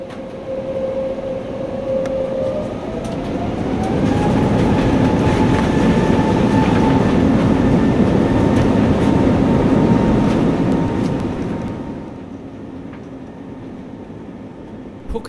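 An AirAsia Airbus A320 taking off from Phuket, heard from inside the cabin as a dense engine roar that swells and holds with a rising whine, then fades to a quieter hum.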